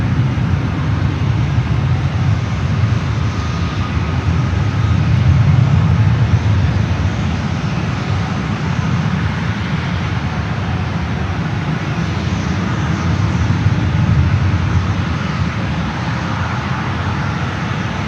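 A KLM Boeing 787 Dreamliner departs San Francisco International Airport, its engines giving a steady, loud, broad roar that holds evenly for the whole stretch, with no voices over it.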